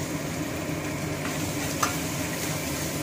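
An egg fries in a pan with boiled Maggi noodles, giving a dense, steady sizzle with continuous stirring and one brief clink of a utensil near the middle.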